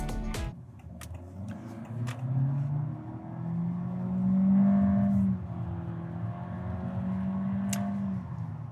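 A 180-horsepower Honda Civic with a CVT accelerating: a steady, droning engine note that climbs and holds at high revs rather than shifting through gears, heard from inside the cabin, fairly loud, with no talking.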